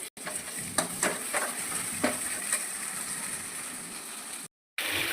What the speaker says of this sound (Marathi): फक्त आपला मसाला सुद्धा भाजतोय.